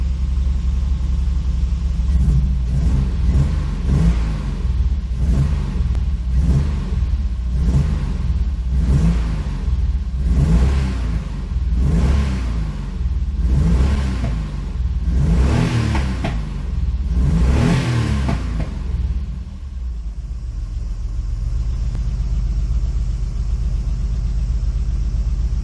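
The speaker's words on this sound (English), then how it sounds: "the snap, crackle and pop of that marvellous ListerBell exhaust" A Busso V6 Alfa Romeo 164 fitted with a ListerBell exhaust revs in a series of rhythmic blips, each rising and falling with deep rumble, close and loud, before settling into a steady idle.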